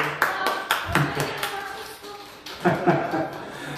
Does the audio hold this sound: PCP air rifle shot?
no